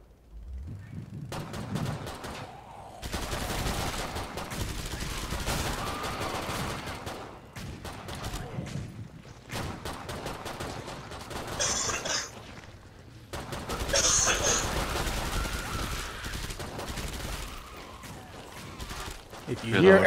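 Pistol shots fired in the zombie shooter Killing Floor 2 during co-op play, sharp cracks in irregular bursts spread through the stretch, mixed with game noise and players talking over them.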